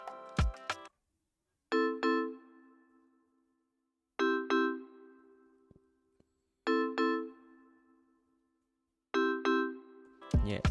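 Five bright bell chimes from a beat-making software sample ring out evenly spaced, each a clean struck tone that rings and fades, with short silences between, plus a few quick taps at the start.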